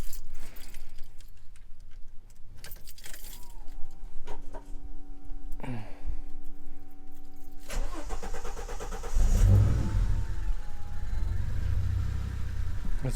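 A turbocharged Ford Falcon AU engine is cold-started after clicks and a brief whirring crank, catching at about eight seconds and settling into a loud, rough, rumbling idle close by.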